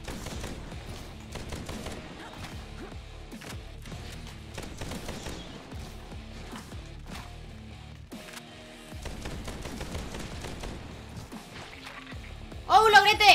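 Rapid gunfire from the video game Bright Memory rattles steadily as shots and impacts run together under game effects and music, with a voice talking over the action.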